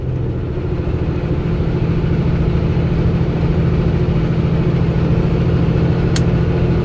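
A semi truck's engine drones steadily and loudly from inside the cab after a downshift to 10th gear on a steep grade, a constant low rumble with no talking.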